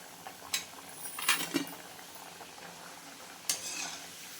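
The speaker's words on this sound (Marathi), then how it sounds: "तर बघा आता हे पूर्ण तळून घ्यायचे आहेत." Besan puris fry in a pan of oil for ladoo, with a soft sizzle and a few clinks and scrapes of a utensil stirring them, heard close and without talk.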